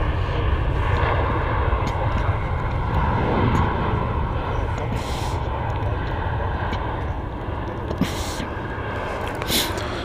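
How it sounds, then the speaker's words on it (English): Hi-Fly Malta airliner, a 24-year-old Malta-registered jet at Stansted Airport, starting its engines: a loud, continuous broadband roar and whine that holds steady throughout, heard from outside at a distance. "And here she goes. You can hear the engines starting up."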